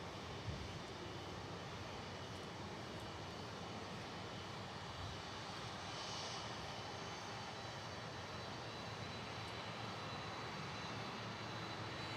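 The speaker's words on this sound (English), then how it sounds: "And that's a 330 freighter." An Airbus A330 freighter's engines at Miami airport give a steady, broadband jet roar that holds at an even loudness throughout, with no talk.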